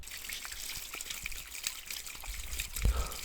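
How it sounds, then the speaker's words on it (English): Water runs and trickles steadily through a gutter or drain outdoors, a soft continuous splashing with faint low rumbles and a brief louder gush near the end. "Nothing more therapeutic than the sound of running water"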